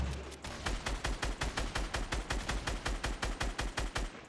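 Rapid automatic gunfire in Fortnite, roughly twenty evenly spaced loud shots in one steady burst lasting about four seconds, close and prominent with no talking over it.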